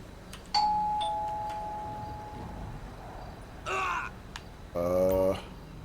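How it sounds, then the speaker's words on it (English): A doorbell at a mobile home in GTA V with the LSPDFR mod, a single clear electronic tone that rings and slowly fades, followed by two harsher buzzing tones. No speech is heard. "let's ring the bell"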